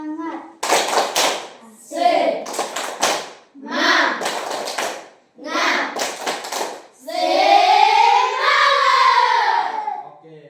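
A classroom of children does 'tepuk semangat', a rhythmic clap-along: bursts of hand claps alternate with loud, chanted group voices in several short phrases, ending in a longer sustained shout.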